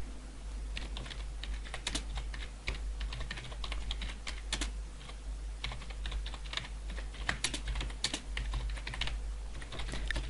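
Fingers type on a computer keyboard in a rapid, uneven run of close clicks and key taps over a low steady hum, with no voices.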